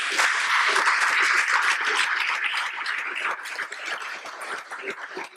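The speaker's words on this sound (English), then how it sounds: "we should give ourselves a hand of applause" Audience applause at a middle school groundbreaking ceremony in Hyattsville, a dense, steady wash of many hands clapping that runs throughout and eases slightly toward the end.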